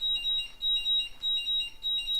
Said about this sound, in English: 2S battery done charging, as you can hear.